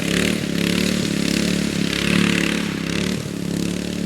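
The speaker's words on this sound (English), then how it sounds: "She's just revving out." An engine revs out hard and close, a loud raspy buzzing roar with rattly clatter that rises and dips slightly while holding near full revs throughout.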